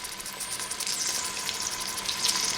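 Continuous crackling hiss of pork frying in a hot pot for pork chili verde, close up, with a faint steady hum underneath.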